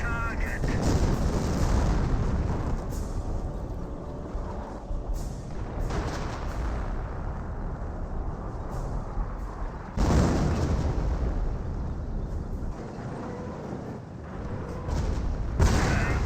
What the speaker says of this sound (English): They got some nice howitzer barrages there onto the Panther.